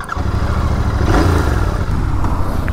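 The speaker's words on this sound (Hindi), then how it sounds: "एंड अभी सबसे पहले हम लोग बाइक को स्टार्ट करते हैं।" A 2024 Royal Enfield Continental GT 650 twin-cylinder motorcycle fires up and settles into a steady, loud, close idle with a deep throbbing rumble and slight revving throughout.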